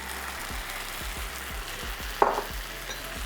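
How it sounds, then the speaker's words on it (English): Diced tomatoes sizzle in a pan as they cook for a Thai coconut shrimp dish. A moderate frying crackle runs throughout under soft rhythmic low thumps, and one brief sharper clatter lands midway. "And now let's add in some diced tomatoes."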